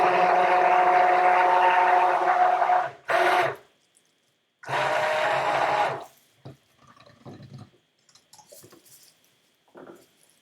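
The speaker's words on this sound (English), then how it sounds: "So I'm gonna get it in here with the stick blender." A stick blender whirs through cherry soap batter in two loud bursts, a long one and then a shorter one after a brief pause, followed by faint clinks and taps.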